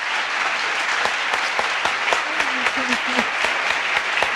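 Audience applause at a fan meeting with author Brandon Sanderson at a festival, a steady bed of clapping with sharper individual claps standing out and a brief voice heard underneath.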